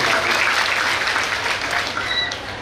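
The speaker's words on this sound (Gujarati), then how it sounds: "બધા તાળીઓથી આપણે વધાવી લઈએ" An audience at a religious gathering claps together in sustained, dense applause that slowly fades near the end.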